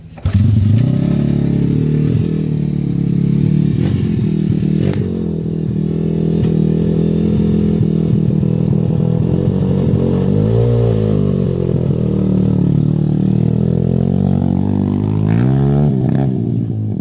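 Trike motorcycle engine running at high idle with no front fender, a loud, steady close-up drone that holds throughout with slight rises and falls in pitch and a few metallic clatters.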